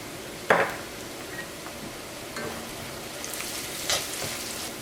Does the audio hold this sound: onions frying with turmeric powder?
yes